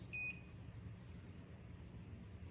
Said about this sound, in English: it gets unhappy with me and gives me that beep